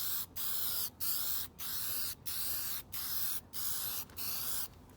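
Spray can or spray gun lays a thick coat of paint on an old Briggs and Stratton generator in seven or eight steady hissing bursts with short gaps, close and without talk.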